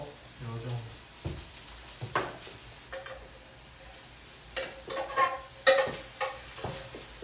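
Potatoes fry in oil in a pan, a close crackling sizzle with scattered pops and scraping stirs, rising and falling in bursts.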